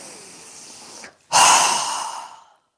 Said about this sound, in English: exhaling with a strong breath through our mouth